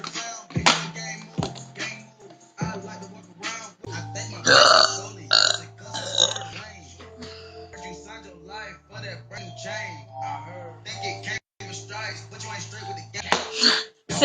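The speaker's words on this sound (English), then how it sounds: "Did I even burp last time?" A woman belches several times, loud close burps scattered among quiet stretches, with brief talk and light clinks of dishes and cutlery in between.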